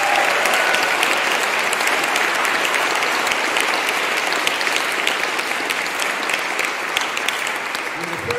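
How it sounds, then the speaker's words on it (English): Loud, dense audience applause for the housemasters at a school house music competition, a sustained roar of many hands clapping without a break. "Big round of applause for the housemasters."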